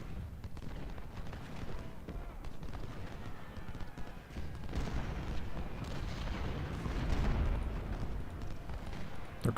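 A dense, continuous barrage of cannon and musket fire from the Civil War video game Ultimate General, during the battle of Malvern Hill, rumbling and booming without pause throughout.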